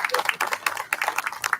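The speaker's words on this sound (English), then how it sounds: "Let's please give them another round of applause." Audience applause at a carnival-themed talk series, a brief burst of many hands clapping in a quick, dense patter.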